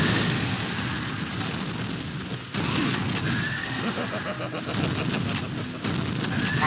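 Shotgun blasts in Spawn: Armageddon land as heavy, booming shots amid chaotic game noise, with a neighing horse-like cry and rumbling explosions mixed in.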